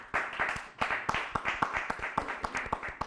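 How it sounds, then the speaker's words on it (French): An audience at a religious debate applauds the debaters, a quick run of sharp, dense claps lasting a few seconds at moderate volume. "on applaudit pour tous les débatteurs"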